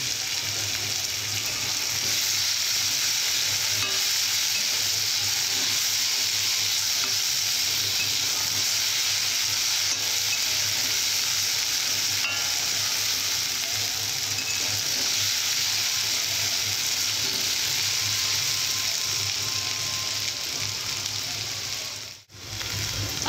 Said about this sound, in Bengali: আলুগুলো ভেজে নেব। অল্প করে হলুদ দেব